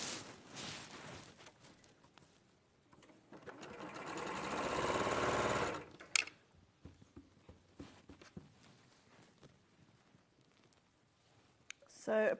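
A sewing machine chain-stitches fabric pieces in a single brief run of close whirring, with a few clicks after it and a person talking quietly around it.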